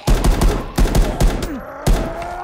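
Rapid bursts of loud gunfire crack in quick clusters in the zombie survival horror game The Day Before, with short pauses between volleys and a low groan-like sound in between.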